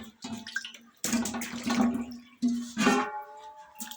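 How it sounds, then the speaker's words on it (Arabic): Salted fish (fesikh) being washed in water: bursts of running and splashing water in close uneven surges, with brief pauses between them. "ننزل كل كميه الدم والقرف ده منه كده، ونغسله كويس"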